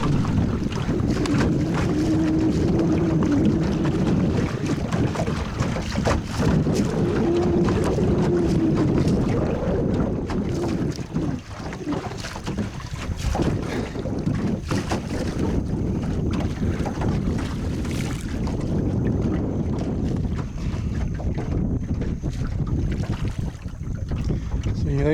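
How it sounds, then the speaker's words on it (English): A boat motors steadily across open water toward a floating jug on a Florida alligator hunt, a continuous engine drone blended with heavy wind buffeting the microphone throughout. "the boat's going to go towards this jug"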